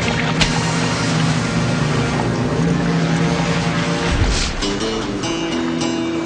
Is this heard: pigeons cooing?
no